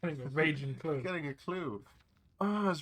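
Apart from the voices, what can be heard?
No distinct noise like a dog, phone or traffic.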